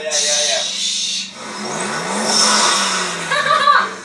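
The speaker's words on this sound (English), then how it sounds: "Give it a little rev so we can hear what it sounds like" A Maserati MC20 with a twin-turbo engine revving, a rising, surging roar from behind the car at moderate distance, with turbo whoosh and people talking and reacting over it.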